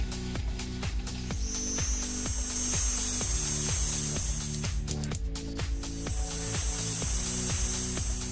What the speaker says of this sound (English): I loaded a fresh piece of steel into the lathe and then formed the basic profile.